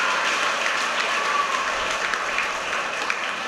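Sustained audience applause at an honorary doctorate ceremony at St Joseph's School, a dense even wash of clapping from a large gathering that continues steadily without pause.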